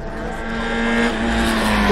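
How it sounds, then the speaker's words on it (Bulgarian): Race cars at an Opel club gathering roar off the start together, a loud, steady engine drone with rising revs, close and continuous. "имаме старт на състезанието"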